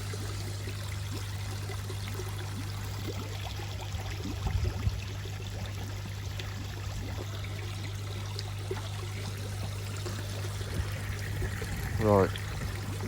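Water trickles and pours faintly during a partial water change on a home fish tank holding fry and lilies, heard under a steady low electrical hum.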